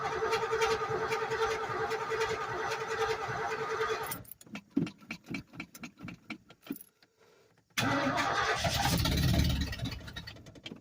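An old engine running with a steady drone that cuts out into irregular sputtering knocks, falls briefly silent, then roars back to a loud, full run.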